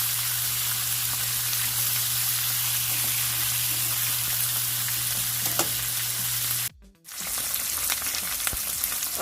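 Beef short ribs sear in a hot pan, browning side by side, with a steady close sizzle and spatter that runs unbroken for several seconds, cuts out briefly and then returns. Nobody speaks.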